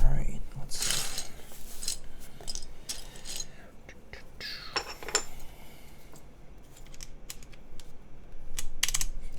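SGI Granite keycaps are pressed onto an Alps keyboard in a quick series of sharp plastic clicks and clatters, some bunched together and others spaced apart, with faint low background noise.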